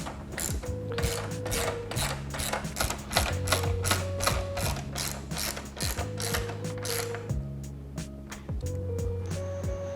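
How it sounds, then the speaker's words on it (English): Bolts on a Jeep Wrangler JL headlight housing are driven in with a ratcheting tool, a fast string of close clicking pawl sounds broken by short pauses between runs. "And now we'll just screw in the bolts."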